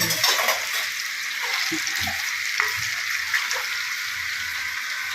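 Jackfruit pieces deep-fry in hot oil in a kadhai, a loud, dense crackling sizzle that holds steady throughout, close by, with a few soft knocks underneath.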